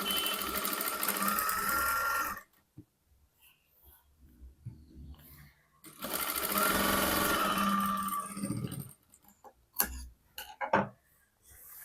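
A sewing machine stitches the folded hem of a katori blouse in two close, loud runs of rapid whirring, separated by pauses filled with faint handling clicks and a few short bursts near the end.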